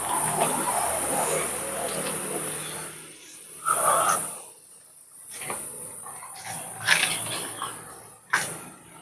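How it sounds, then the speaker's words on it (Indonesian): Cicada-like insects buzz from the yard of an abandoned rural house, a steady high shrill drone running throughout beneath intermittent closer rustles, breaths and short sounds. "Terdengar masih ada suara-suara kayak tonggeret gitu ya. Ini dari pekarangan ini ya."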